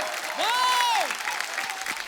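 Steady applause from a TV comedy show studio audience welcoming a singer, with a rising and falling whoop of a cheer near the start.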